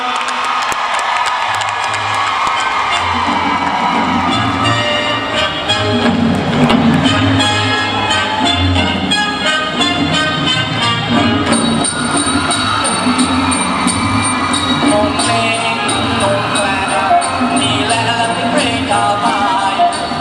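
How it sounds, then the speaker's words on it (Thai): Crowd applause and cheering for twelve performers after a fantasy Talung shadow-puppet-themed stage show in Thailand, a dense, steady roar of clapping and shouts mixed with loud music across the whole stretch. "ขอเสียงปรบมือให้กับศิลปินของเราทั้ง12ท่านด้วยครับ"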